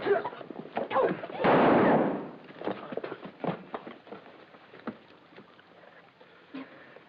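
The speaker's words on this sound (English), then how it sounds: "I detest shooting. It makes so much noise." A single gunshot in a Scotland Yard detective drama, a muffled, booming burst lasting under a second, followed by sparse knocks and movement on a thin, dated soundtrack.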